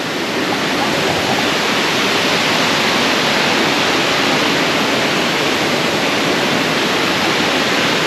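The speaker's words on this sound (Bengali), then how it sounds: "এই যে রিভার উপর যে জলটা পড়ছে" Waterfall in Meghalaya pouring into a river: a loud, steady, dense roar of rushing water that continues unbroken throughout, with no talk heard.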